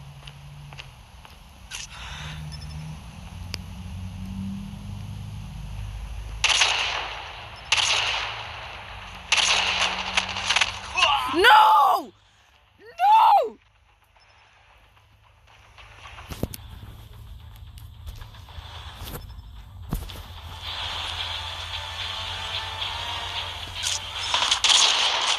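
Gunshots ring out in a Call of Duty match, with sharp, scattered cracks and bursts spread across the stretch. Footstep-like clatter and quiet gaps fall between them, and there is little talk.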